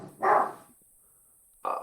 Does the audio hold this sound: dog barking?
yes